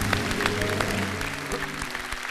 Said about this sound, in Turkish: Ya Baran'a çok büyük bir alkış Beşir'e.